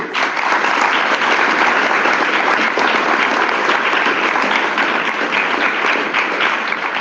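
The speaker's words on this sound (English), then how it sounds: "I think we need to give them a big round of applause." Conference audience applauding newly congratulated cadets, a steady, dense wash of clapping that holds at even loudness throughout with no voices over it.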